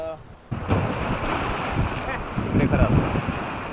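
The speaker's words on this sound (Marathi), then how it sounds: "हा घ्या हा खवळलेला समुद्र" Rough pre-monsoon sea surf churning with broad, continuous roar and wind buffeting, loud and close, with swells rising and falling over a few seconds.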